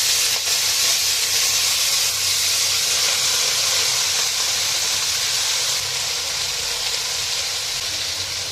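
Chopped red amaranth greens hit browned onion and garlic in a rice cooker, giving a loud, steady steamy hiss and sizzle that holds evenly throughout, with no talking.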